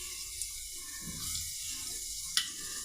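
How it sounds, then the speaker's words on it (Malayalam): Fenugreek seeds spluttering in hot oil in a pan on a heated tawa: a soft, continuous sizzling hiss with a few faint pops and crackles scattered through. "ഉലുവ എല്ലാം നല്ലപോലെ ഒന്ന് പൊട്ടട്ടെ."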